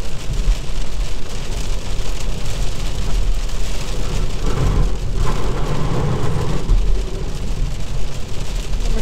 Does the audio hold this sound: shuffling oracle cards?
no